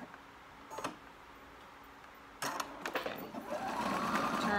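A sewing machine stitching fabric for a tulip dress, with two brief bursts of rapid mechanical clatter, a pause, then a longer steady run of fast stitching close up.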